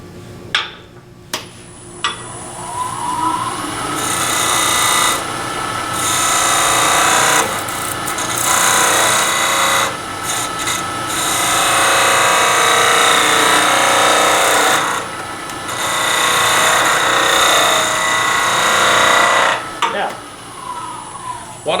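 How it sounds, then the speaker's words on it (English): Woodturning on a lathe with a skew chisel making an end cut across end grain: a sustained whirring, rasping cut that rises and drops in passes, with talking between cuts. "There is another cut here called the end cut, which is a nice clean way of slicing across these end grain fibers"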